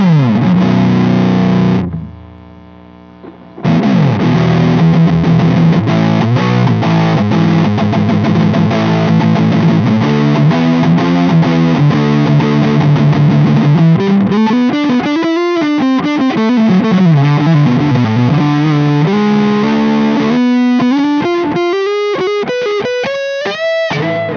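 Gibson Les Paul Tribute 2018 electric guitar on the neck pickup through overdrive with a noise gate, playing loud, sustained distorted notes and bending lead lines after a short silent gap.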